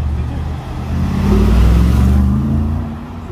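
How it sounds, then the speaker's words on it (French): A white Mercedes G-Class tuned by Brabus arrives in a Monaco parking area, its engine a loud, low rumble that swells as it pulls close, then eases slightly. "Classe G Brabus blanc qui arrive les amis."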